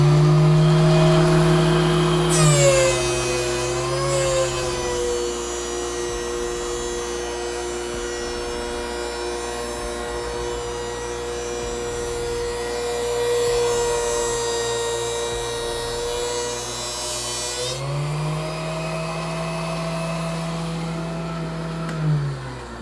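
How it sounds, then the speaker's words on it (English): DeWalt DW735 thickness planer with a Byrd Shelix helical carbide cutterhead, dust collector running, spins up and feeds a board down toward half an inch: a loud steady motor whine with a harsh cutting roar through the middle, then winding down. "Put my dust collector on."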